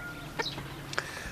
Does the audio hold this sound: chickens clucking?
yes